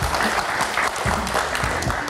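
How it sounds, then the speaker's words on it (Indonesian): A studio audience at a live talk show bursts into applause, a dense, steady clatter of clapping hands with a voice briefly heard beneath it. "Tepuk tangan sekali lagi dong."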